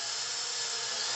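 A drill boring a hole through epoxy, a brief steady high-pitched whir that holds for about a second.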